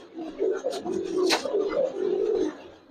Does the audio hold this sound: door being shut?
no